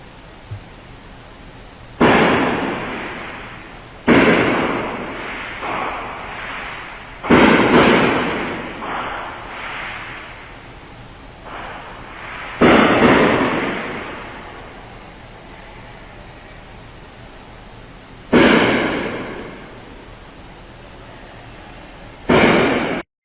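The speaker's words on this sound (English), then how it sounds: "Not even going to play the whole thing because it's fireworks." Fireworks go off at a distance in a slow, irregular series of about seven heavy booms, each a sharp bang trailing into a long rumbling decay, with quieter gaps between blasts.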